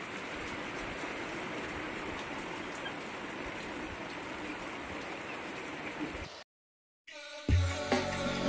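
Steady rain falls as a soft, even hiss close by for about six seconds, then cuts out briefly before a louder, rumbling passage takes over.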